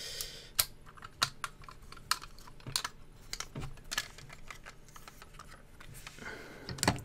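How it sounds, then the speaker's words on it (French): The waterproof housing of an SJCAM SJ4000 action camera is unlatched and opened, giving a quick series of sharp plastic clicks and small knocks, close and fairly quiet, with no talking. "on va tout de suite ouvrir le caisson étanche pour que vous puissiez voir la caméra."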